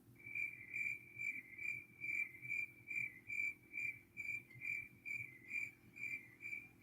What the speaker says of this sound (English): More and more crickets.